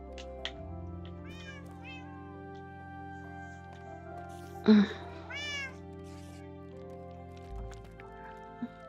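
Several cat meows from a video game, quite close and clear, repeating over a steady background of game music, with a brief grunt from a person partway through.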